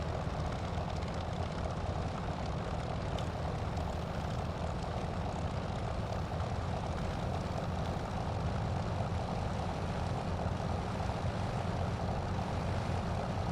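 A P-40F Warhawk's piston engine under throttle in Microsoft Flight Simulator makes a loud, constant propeller drone that holds steady from start to finish, with no talking.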